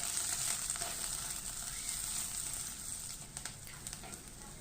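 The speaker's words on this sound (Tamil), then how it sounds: "பொடியாக நறுக்கின பெரிய வெங்காயம் ஒன்றை போட்டு நல்லா வந்து வதக்கி விட்டுக்கலாம்" Chopped large onion sautéing in sesame oil in a kadai after a tempering of chillies and curry leaves, a steady close sizzle and crackle with faint stirring scrapes and no voices.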